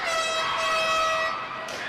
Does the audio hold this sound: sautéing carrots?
no